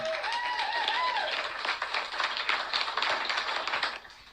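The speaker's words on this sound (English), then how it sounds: "And a round of applause." A live-stream show host gets a round of applause, a steady wash of clapping that stays fairly loud throughout, with a brief tonal whistle-like sound near the start.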